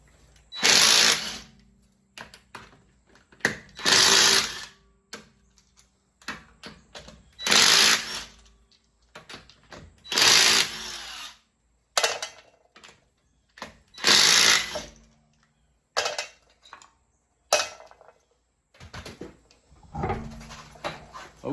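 A tool spins and ratchets on the wheel lug nuts of a Ford Fusion, in loud repeated bursts of a second or so separated by quiet gaps, with shorter clattering bursts toward the end.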